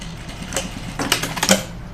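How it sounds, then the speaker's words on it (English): A home sewing machine backstitches through shirt fabric for a button-up, a fast run of mechanical needle clatter that speeds up and grows louder toward the end, close and alone with no talking. "So I'm going to backstitch right here."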